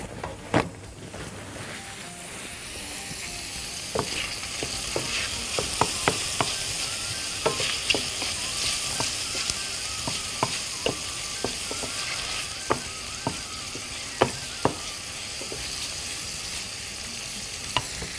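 Duck liver and gizzards fry in oil with a steady, close sizzle that runs throughout, broken by occasional sharp clinks and scrapes of stirring in the pan.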